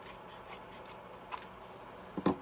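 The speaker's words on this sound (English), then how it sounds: "I'll cut these off." Scissors snip off excess material while a small mini wallet with open T pockets is trimmed, giving two quick close cuts, a light one early and a sharper pair near the end, over a soft background hiss.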